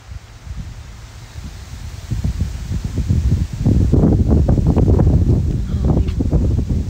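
Strong wind gusting outdoors in Texas, a loud rushing roar with rustling that builds from moderate to heavy buffeting, steady and close against the microphone with no speech.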